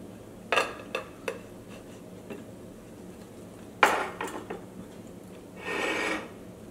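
A utensil scrapes around the sides of a dish to loosen set banana halwa, giving sharp scattered clicks and scrapes followed by a longer rasping rub, fairly faint with no talking.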